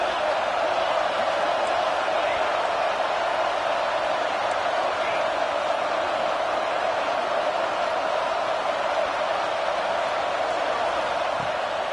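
A college football stadium crowd during a game against FSU produces a constant, loud, dense roar that stays steady throughout, with no clear breaks.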